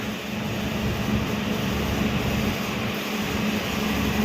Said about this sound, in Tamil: மிஷின் வந்து ஓடிட்டுருக்கு, ஏர் மிஷின் வந்து ஓடிட்டுருக்கு